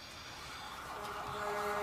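A fire truck siren approaches, its steady wailing tone rising from faint to clearly louder over a couple of seconds against a busy background hum.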